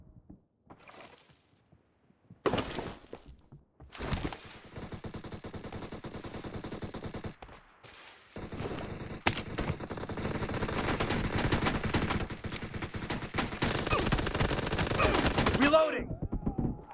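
Rapid pistol gunfire in a video game team deathmatch, dense bursts of shots in clustered volleys separated by short lulls, loud and close.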